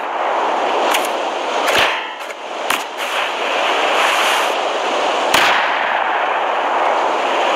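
Rocket blasts in the game Rust crack and boom repeatedly at irregular intervals over a dense, continuous roar of gunfire and explosions during a raid.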